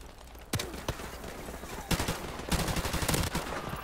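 AK-74 rifle fire in the video game Modern Warfare Remastered: sharp single shots early, then rapid bursts of automatic gunfire, loud and close over faint game background.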